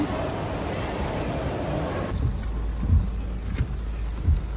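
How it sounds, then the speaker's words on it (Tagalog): Rain falls steadily in a loud hiss that drops away partway through, followed by a few low thumps and patter. "It's raining."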